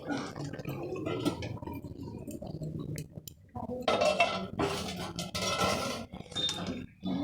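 A metal lid clinks onto a cooking pan holding fried egg, carrot, onion and chilli, with scattered light clinks and taps of cookware, close and fairly quiet.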